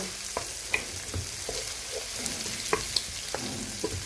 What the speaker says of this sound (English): I'm going to allow my onions to burn